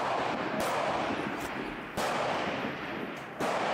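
Gunshots at a rifle shooting match, two sharp cracks about one and a half seconds apart over constant wind-like background noise, fairly close, no talking.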